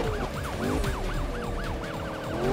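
Siren of a police Dodge Charger in the Need for Speed 2015 racing game, a steady rising-and-falling yelp repeated many times, loud and near over a background engine drone.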